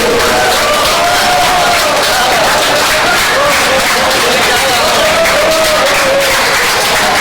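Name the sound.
audience applause welcoming an award winner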